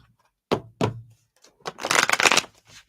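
Two sharp snaps of tarot cards, then a brief ruffling burst of the tarot cards being shuffled, close and fairly loud in an otherwise quiet room.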